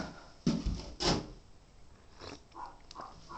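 A heavy door is moved about, giving two solid thumping knocks close by, then lighter scraping and clunking as it shifts.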